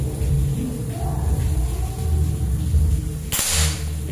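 A second sharp crack from a folding AK-style PCP air rifle at 4000 psi, fired at a target over a continuous low hum of noise from a nearby puppet show; one loud, brief report near the end.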